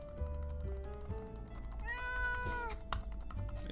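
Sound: cat meowing in video game 60 Seconds

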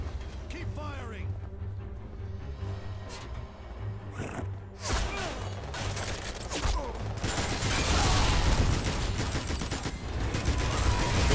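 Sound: gunfire in the Spy Hunter: Nowhere to Run video game

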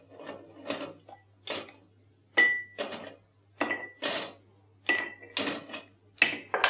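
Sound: ice cubes filling a glass

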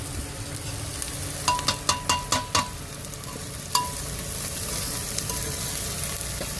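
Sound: tadka tempering sizzling in a pan for dal

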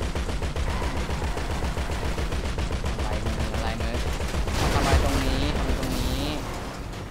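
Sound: gunfire and explosions in a video game

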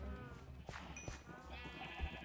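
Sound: sheep bleating in Minecraft, video game

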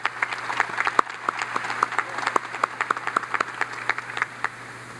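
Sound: audience applause

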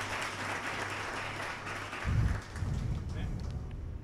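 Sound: congregation applause in church

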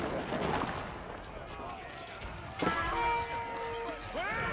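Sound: archers' rapid fire ground attack in video game Age of Empires IV

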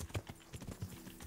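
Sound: horse hooves in a video game

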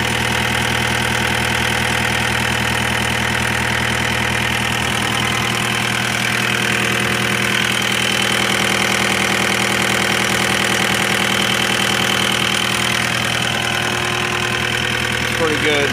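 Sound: engine of heavy equipment idling

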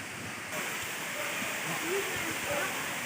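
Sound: waterfall

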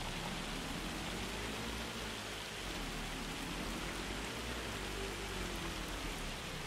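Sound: rain falling in video game Farming Simulator 25

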